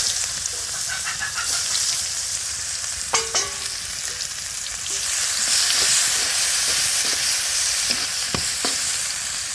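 Onions hit hot oil and sizzle loudly and steadily, with a few sharp clinks of a stirring spoon against the pan breaking through the continuous frying hiss.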